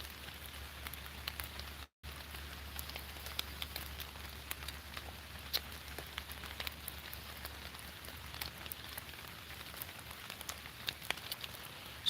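Steady light rain falls outdoors, a soft continuous patter with scattered sharper drops, quiet and even throughout, with no voices.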